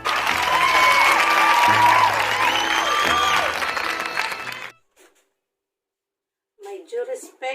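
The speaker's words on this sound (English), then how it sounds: "Let's give her a round of applause." A round of applause rises for the school head at an elementary school's virtual graduation ceremony, with steady clapping for about four seconds that fades to silence before a voice resumes.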